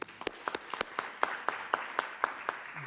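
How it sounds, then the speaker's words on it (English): Sparse, distinct claps ring out at a steady rhythm in a hall during a talk on genomic research, a few individual hands rather than a full crowd, moderately close. "let's give the NIH a round of applause for that, please."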